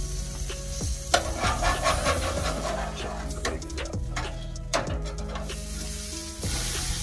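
Burger patties sizzle on a Monument MESA-400 gas grill running on one burner, a steady crackling fry nearby punctuated by sharp clicks and spatula scrapes, with someone talking over it.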